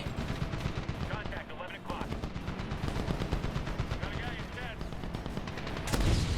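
Rapid bursts of gunfire in the video game Medal of Honor rattle continuously, loud automatic shots and booms packed densely together with barely a pause.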